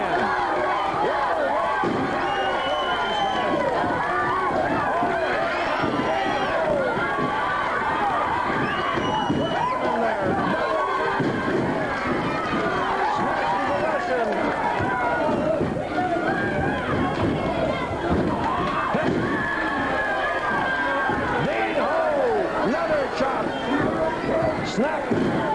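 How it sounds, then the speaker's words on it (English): A packed arena crowd at a 1978 California professional wrestling match roars nonstop, a dense, loud wash of yelling and cheering with scattered thumps from the ring, under excited commentary. "That crowd got wild."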